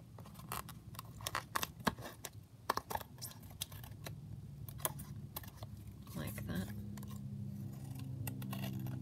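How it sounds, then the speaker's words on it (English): Scissors trimming the overhanging edge of card for a handmade greeting card, giving a series of short crisp snips and clicks with some rustling, close by, alongside a low background hum. "what I'm going to do is just trim off the overhang here"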